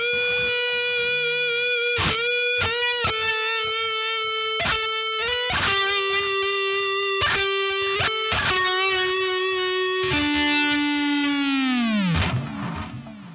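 Distorted electric guitar lead playing the harmony line of a song's solo, sustained bent notes and slides ending in a deep tremolo-bar dive, loud and alone.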